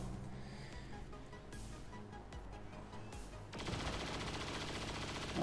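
Rapid-fire gunshots in XCOM 2, a quick burst of shots over a droning game background, fairly faint at first and then a louder, denser volley near the end.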